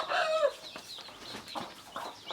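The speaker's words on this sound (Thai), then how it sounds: "ไอ้พวกนี้ก็เป็นไก่" Chickens cluck and squawk close by, several short calls in quick succession, with a shrill cry at the start.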